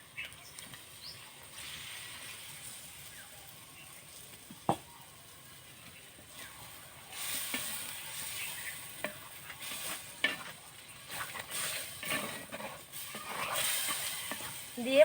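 Spice masala being sautéed with desi chicken in a pan, a soft steady sizzle with scattered stirring scrapes and clicks that grow busier and louder in the second half.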